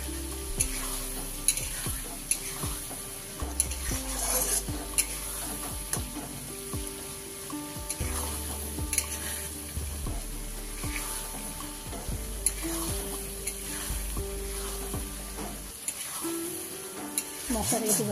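Homemade spices for a fiery red mutton curry sauté in a pan, with a steady close sizzle and repeated scraping stir strokes running throughout.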